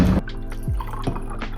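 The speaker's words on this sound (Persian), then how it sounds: "یه دونه لیوان میاریم و اینجا باید پر آب بشه" Water is poured into a drinking glass, giving a few short gurgling drips and splashes that sit close and fairly quiet, with no voices.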